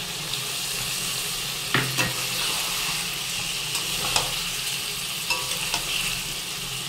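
Chilli and spices for a fish curry fry in hot oil in a pan, making a loud, dense, continuous sizzle with a few faint scrapes and taps from stirring.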